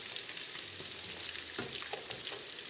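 A salmon dish being stirred in a pan, steady frying sizzle throughout with a few scraping stir strokes near the end, close and alone with no voices.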